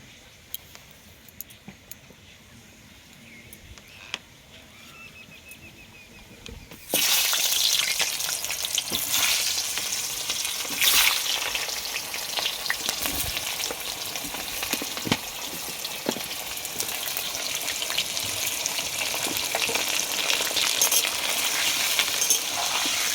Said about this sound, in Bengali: এবার আমি আলুটা ভেজে নেব লবণ দিয়ে দিলাম